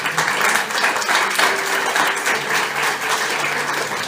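A church congregation applauds together in sustained, dense clapping that holds steady and fairly loud throughout, with no voices rising above it.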